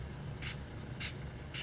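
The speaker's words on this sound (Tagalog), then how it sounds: "we're going to use Shawil Makeup Mist and Set" Shawill makeup mist and setting spray gives three short, crisp aerosol bursts, evenly spaced about half a second apart, close to the ear against a quiet room.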